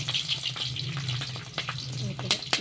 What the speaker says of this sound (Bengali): আমি এবার কালো জিরা ফোড়ন দিয়ে দিলাম, তার সাথে কাঁচা লঙ্কা দিয়ে দিচ্ছি